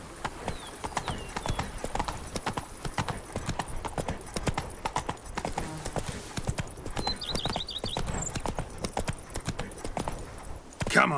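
Hooves of the horse Roach clip-clop in a fast galloping rhythm across The Witcher 3 game world, steady and fairly close, with a brief whinny-like cry and a faint voice calling out now and then.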